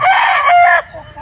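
A Filipino gamefowl rooster, a sweater and Gary Gilliam Roundhead cross, crows once loudly and close by, a short strained call that breaks off abruptly.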